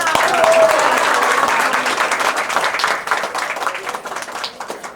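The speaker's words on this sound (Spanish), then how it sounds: "Un aplauso para Miguelito" Audience applause for Miguelito at a gathering for a salon and spa family, a dense wash of clapping that stays loud and steady, then thins slightly toward the end.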